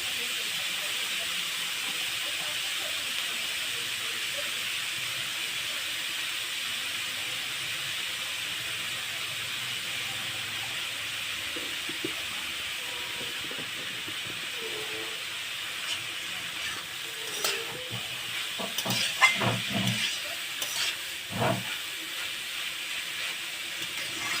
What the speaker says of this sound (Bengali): থোর ভাজাটা হয়ে গেছে এবার নামাই নেব